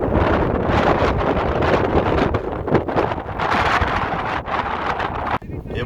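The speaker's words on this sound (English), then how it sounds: "the wind kept getting stronger and stronger as the day went on" Strong, gusty Kansas wind in the mid-40s mph buffets the microphone with a loud, continuous roar that surges and dips with each gust, no voices over it.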